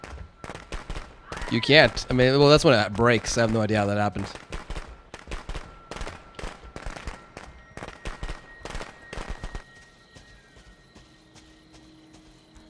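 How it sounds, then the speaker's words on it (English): Firecrackers crackling in the Friday the 13th video game, a long string of sharp, rapid irregular pops lasting several seconds, partly under talking and a sustained tonal sound early on, then thinning out into scattered bangs. "you dropped your firecrackers and they ignited themselves"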